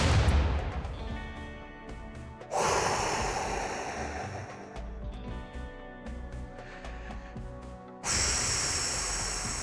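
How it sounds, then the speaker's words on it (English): Mortar shells fire and explode in the video game RimWorld: sharp hissing bursts followed by decaying rumbles, two loud blasts separated by a quieter stretch of game sound. "their first mortar shot landing in the high explosive mortar room"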